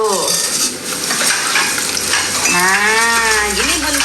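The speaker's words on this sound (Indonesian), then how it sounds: "Bun, minyaknya sudah panas kembali. Kita masukkan kembali ayamnya yang tadi." Loud sizzling of chicken frying in hot oil for a second time fills the clip, with a brief wavering, voice-like tone rising over it near the end.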